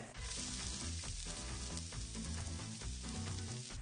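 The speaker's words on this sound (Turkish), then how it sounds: "iç malzemesini hazırladık ve soteliyoruz her zaman yaptığımız gibi" Filling for Ali Nazik sautés in a pan, a continuous dense sizzle heard up close, with no talking.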